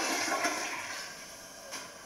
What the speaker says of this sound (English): toilet flushing,